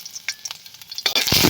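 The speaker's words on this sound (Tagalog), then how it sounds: "So yun guys, umusok na yung kawali. Kaya lagyan natin yung bawang." Garlic dropped into a smoking-hot pan for a pot of monggo, a few faint clicks first and then a loud, close burst of sizzling that builds at the end.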